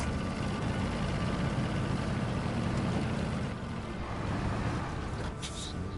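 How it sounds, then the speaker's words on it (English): Truck engine in the off-road driving game Expeditions: A MudRunner Game, a steady loud low rumble droning continuously throughout with no breaks, alone without talk. "can you hear the engine though? I like, it sounds better than SnowRunner."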